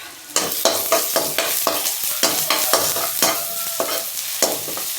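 Anchovy rice is stirred and fried in a pan with chilli powder, giving steady sizzling with a run of loud scraping stirs, no talking.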